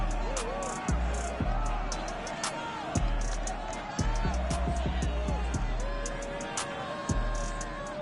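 Stadium crowd noise from an NFL game in Madden NFL 22, a steady roar of fans under repeated thuds and game sounds, with a voice talking over it.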